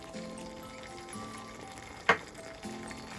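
Cubed tomatoes sizzle steadily in a pan for kadhai paneer, a close, continuous frying hiss with a single sharp clink of a utensil partway through and no talking.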